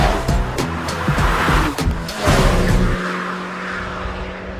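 A MINI Countryman Cooper S drives hard along a twisty road, its engine note rising and falling through gear changes with short bursts of tire noise, steady and fairly close throughout.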